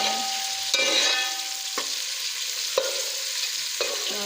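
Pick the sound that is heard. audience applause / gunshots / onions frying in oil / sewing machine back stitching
onions frying in oil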